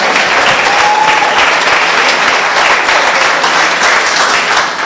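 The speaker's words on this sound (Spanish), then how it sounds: "un aplauso para nosotros" Loud sustained applause from a crowd at an evangelization presentation in Mexico, a thick, even patter of many hands filling the whole stretch without a break.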